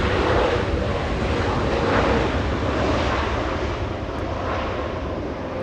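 Airliners arriving and departing at Los Angeles International Airport make a broad, loud rushing engine roar with wind buffeting the microphone, fading gently over a few seconds.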